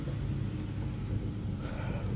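Low, steady cabin rumble from a Stage 2 Mercedes E63s AMG cruising in race mode, a continuous drone with no talking over it.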